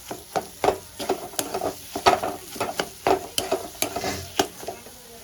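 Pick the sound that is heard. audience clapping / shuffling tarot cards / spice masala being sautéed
spice masala being sautéed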